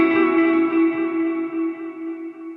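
An electric guitar through a Royal Tone overdrive, modelled on the King of Tone, on a Fender Tone Master Pro amp modeller rings out one loud, sustained chord that slowly decays with a touch of reverb.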